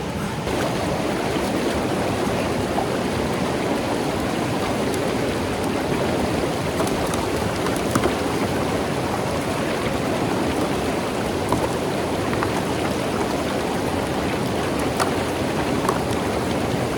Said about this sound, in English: Plenty of water flow to push everything through.